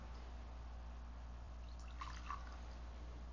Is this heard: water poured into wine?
yes